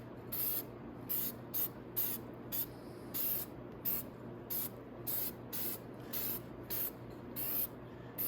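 Repeated short bursts of spray from a can of fast-drying primer coating a motorcycle skid plate on a Venom 250cc chopper, about fourteen hissing blasts in a steady rhythm, close and alone.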